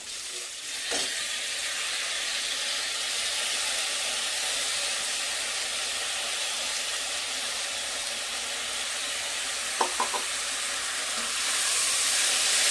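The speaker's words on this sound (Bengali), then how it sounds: "চালটা একটু নেড়ে নেব।" Soaked, drained gobindobhog rice sizzling steadily in a hot pan with raisins for cauli prawn rice, a continuous close frying hiss with a few soft stirring scrapes and no talk.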